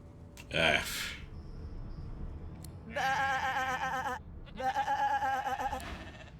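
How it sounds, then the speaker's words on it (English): A sheep in the video game Divinity: Original Sin II lets out several wavering bleats, two long, loud, close calls after a shorter cry, with background game ambience around them. "Let's talk to the sheep."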